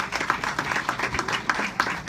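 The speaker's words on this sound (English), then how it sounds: "You can clap on that." An audience at a direct care advocacy gathering claps steadily, a close crowd of rhythmic handclaps lasting about two seconds.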